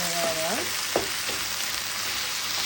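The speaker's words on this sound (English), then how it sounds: "Stir that up." Beef Szechuan stir-fry with ginger sizzles in a pan, a steady, fairly quiet hiss of frying broken by a few brief squeaks and scrapes from stirring.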